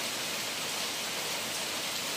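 Heavy rain pours onto trees in a dense, even hiss that stays constant and fairly soft throughout the short stretch, with no voices.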